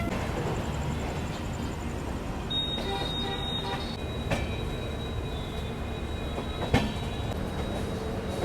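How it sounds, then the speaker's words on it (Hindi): A Pataliputra LTT Superfast Express runs past with a loud, steady rumble of rolling wheels on rails, with occasional squeals and clanks over the constant roar. "यहाँ हमारी मुलाकात हो रही है पाटलिपुत्र LTT सुपरफास्ट एक्सप्रेस से।"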